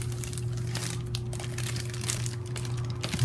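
A plastic bag from a Steam Deck unboxing is crinkled and handled up close, giving a continuous crackling rustle over a steady low hum.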